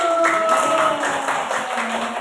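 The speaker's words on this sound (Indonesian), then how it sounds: "Tepuk tangan dulu." Brief classroom clapping for a participant, a loose patter of hands with some tonal background sound and a voice underneath, fairly close and moderate in level.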